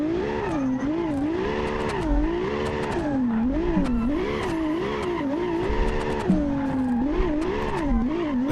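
A car drifts in the BeamNG.Drive driving game: the engine revs rise and fall steadily through linked corners, with faint tire squeal underneath and no talking.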